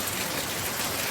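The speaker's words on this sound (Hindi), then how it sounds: "पानी पड़ रहा है दोस्तों, वर्षा हो रही है, वर्षा हो रही है।" Steady, dense hiss of heavy rain falling, continuous and fairly close, with no voices.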